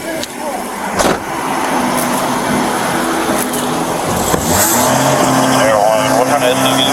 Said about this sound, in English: Your car's on, sir.